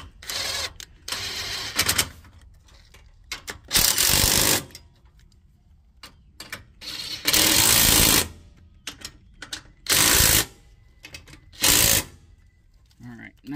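Bolts being tightened on an UltraFab Phoenix RV trailer jack with a power tool, giving several loud, short bursts of rapid mechanical rattling separated by quiet pauses, with some speech in between.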